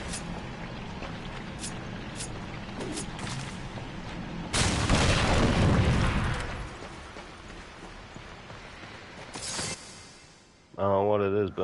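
Gunfire in the action game Darksiders 2 comes as scattered sharp shots over a steady game background, then a loud booming burst of a couple of seconds, later a brief bang and a closing tonal effect.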